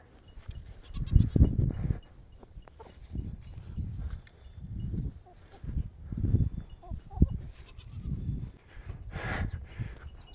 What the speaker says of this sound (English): The goats are just mad because I'm not giving them any attention this morning.